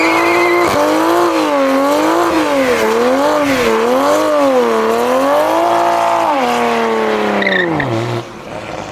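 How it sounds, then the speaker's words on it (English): A Toyota Supra doing an aggressive burnout with the left foot on the brake, engine revving hard and wavering in pitch over loud continuous tire squeal, then dropping off sharply near the end. "That was by far the most aggressive burnout I've done yet."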